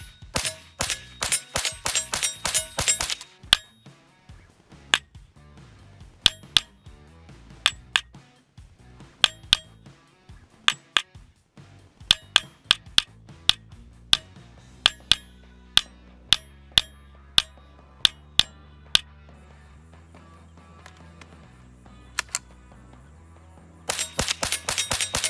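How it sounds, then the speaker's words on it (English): Ruger 10/22 rifle fired downrange outdoors, a fast string of sharp loud cracks at the start and end with slower single shots spaced through the middle, no talking. "Let's go ahead and put our headphones on and put some shots downrange."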